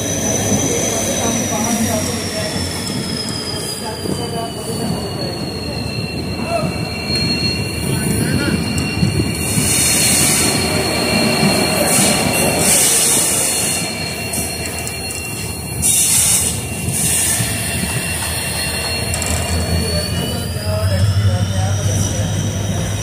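A train pulls into platform 2 at Ringas Junction, a steady loud rumble of wheels and carriages with high metallic wheel squeal running throughout the approach.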